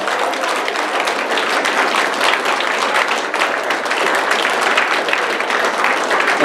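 A church congregation claps hands in praise, a loud, dense, continuous wall of applause that holds evenly throughout.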